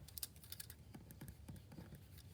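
Quiet, quick taps on calculator buttons entering a short string of numbers, a brisk irregular patter of a dozen or so presses heard up close in a calm room with no talking.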